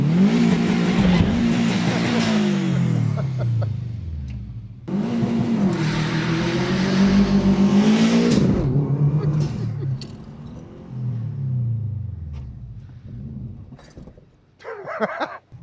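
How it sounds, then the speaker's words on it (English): A Subaru WRX doing clutch-dump launches, with loud engine revving that rises and drops in several surges, a short lull between pulls, and the rumble fading near the end. "You know, I haven't clutch dumped her in a couple days"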